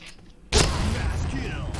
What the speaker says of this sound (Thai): ลองปาระเบิดบ้างครับ